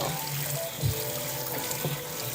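Cold water runs from a tap over tie-dyed fabric being rinsed of excess dye, a steady broadband rush with small splashy shifts as the cloth moves under the stream.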